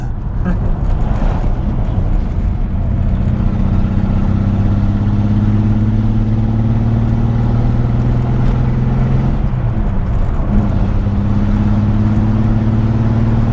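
Barn-find Datsun 280Z, off the road for 18 years, its engine humming steadily while driving, with tones rising through gear changes and a brief dip mid-way; engine noise stays close and loud, with occasional speech beneath.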